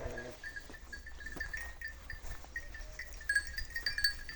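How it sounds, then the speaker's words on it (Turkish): Large sheep eating nearby in a village in Çan, Çanakkale, Turkey, with soft munching and rustling over a steady background hum and occasional faint clinks. "Koyunlar yemek yiyor. Çok da büyükler."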